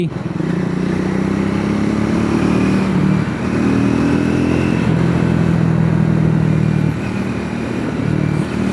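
A Triumph motorcycle rides at speed, its engine droning loud and steady throughout with a brief dip around the three-second mark, and wind noise close to the mic.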